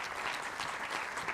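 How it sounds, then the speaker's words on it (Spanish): Steady audience applause for the panelists at the Innova FOSIS 2023 launch event, a dense even patter of many hands filling the short stretch at moderate, consistent loudness. "solamente les pido un caluroso aplauso para los panelistas"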